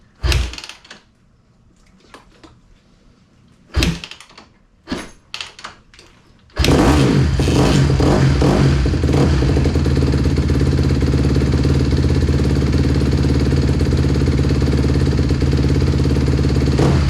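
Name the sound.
Honda CRF150R dirt bike engine starting and running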